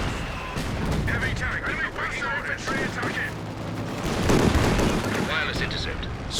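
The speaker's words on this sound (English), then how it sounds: "There's this barrage popping off as well." An artillery barrage and explosions in a Company of Heroes 2 battle, a dense continuous roar of booms and gunfire with a voice talking over the din throughout.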